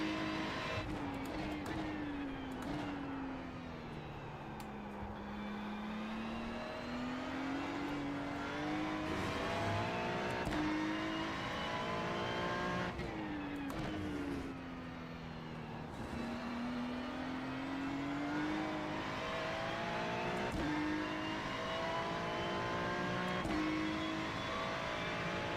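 Ferrari GT3 race car in the iRacing simulator, its engine droning continuously and loud throughout, pitch repeatedly sweeping up through the gears and dropping under braking, with no talk.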